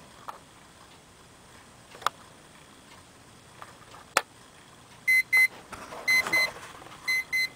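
A LEGO Star Wars alarm clock starts its alarm after a few faint ticks and clicks, sounding short, fairly quiet electronic beeps in quick pairs and bursts near the end.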